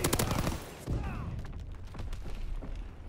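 Gunfire in a World War II video game during a capture-the-flag match, dense bursts and thumps of rifle and machine-gun fire crackling near and far across a battlefield, with distant booms and a faint whistle mixed in.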